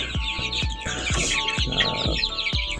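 A broody Kuchin hen that has just hatched chicks clucks in a poultry coop, giving a steady run of short, low clucks at close range while thin chick peeps continue above.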